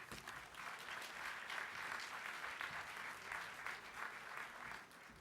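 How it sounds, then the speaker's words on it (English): Audience at an awards gala applauding a reverend, steady full clapping from a sizable crowd that rises quickly and fades slightly at the close. "Please, a round of applause for the Reverend."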